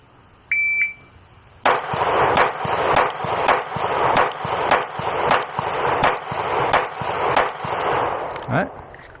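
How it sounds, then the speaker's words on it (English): Pistol gunshots fired left-handed at a range, one sharp report followed by about ten rapid, evenly spaced loud shots with echoing tails, no talking. "we're going to go ahead and shoot 10 rounds left-handed"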